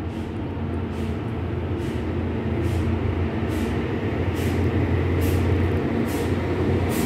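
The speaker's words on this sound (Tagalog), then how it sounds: "Ingay naman ng truck sa labas dumadaan" A truck passes by outside with a continuous low rumble that swells slightly. Repeated faint high ticks can be heard in the background, and no one talks.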